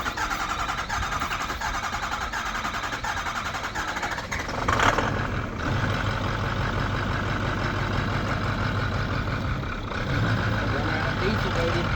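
A Ford F350 King Ranch diesel truck engine rumbles nearby, idling and revving with a brief surge partway through, while people talk over it.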